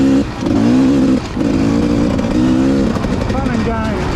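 Motorcycles on a cold near-freezing winter group ride, engine drone rising and falling steadily under wind noise, with a rider talking over it.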